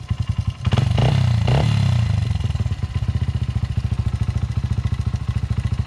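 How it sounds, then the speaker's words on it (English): A Honda CRF 80F dirt bike fires up after a kick with a little throttle, its small single-cylinder engine blipping briefly higher before settling into a steady, close, rapid idle chug. "if I kick it and give it a little bit of gas, it starts right up"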